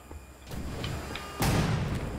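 In the video game Wolfenstein: The Old Blood, an explosion booms partway through as a sudden broad, rumbling burst over quieter background game noise. A few faint knocks come before it.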